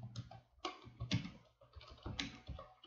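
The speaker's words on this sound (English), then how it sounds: "Just type impacket tool" A computer keyboard is tapped to enter a search: quiet, close keystrokes in short irregular bursts, with no voices.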